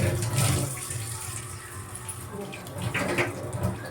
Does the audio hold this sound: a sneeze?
no